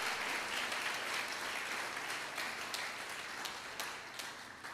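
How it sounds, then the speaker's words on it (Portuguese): Dense, sustained applause from a large church congregation, steady and fairly distant, with no voices standing out. "dá um aplauso bem forte ao Senhor"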